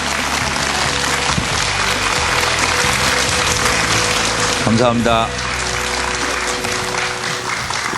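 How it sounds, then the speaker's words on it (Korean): An audience at a medical talk show applauds two visiting doctors as they arrive, a dense, loud, steady clatter of clapping while a host speaks briefly over it. "큰 박수로 맞아주시면"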